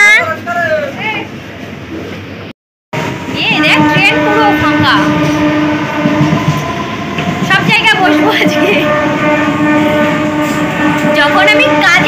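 A nearly empty passenger train runs along, giving a steady loud rumble with rattling and squealing tones. A person talks close by over the noise.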